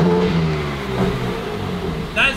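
A BMW M4 Competition engine revving, a steady loud drone with a sharper rise near the end, heard over a recording playing in the background.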